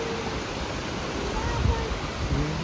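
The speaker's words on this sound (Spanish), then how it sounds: "Mira el río." A river rushes steadily in a natural outdoor spot, a broad continuous wash of flowing water close by, with faint voices under it.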